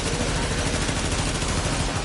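Continuous rapid gunfire from a submachine gun in The Division during a global event, dense and loud throughout with no pauses.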